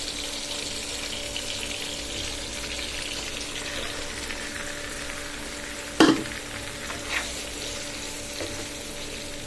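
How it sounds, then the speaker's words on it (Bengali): Marinated chicken pieces frying with onion and tomato in a pan for a tomato chicken curry: a steady close sizzle with a sharp clack of a utensil midway and a few lighter stirring knocks. "আমার মুরগির মাংসগুলো একদম কষে আসলো।"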